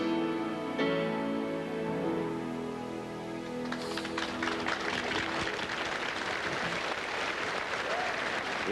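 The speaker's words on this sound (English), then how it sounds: "The applause that you hear is outside of Westminster Abbey, obviously" A large crowd applauds outside Westminster Abbey during Princess Diana's funeral in response to a song. The applause swells from quiet to sustained, distant clapping after the final held notes of music.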